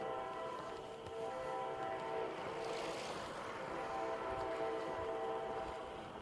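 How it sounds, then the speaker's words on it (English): A train passes alongside the Silver Comet Trail, its horn sounding as steady layered tones over a continuous rumble and wash of track noise that holds at a fairly constant level throughout. "Here's the train."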